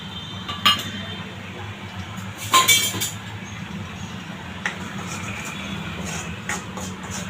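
Spices being stirred in a pan while cooking stuffed brinjal, a few clinks of a spoon against metal cookware over a low background hum, scattered and moderately close.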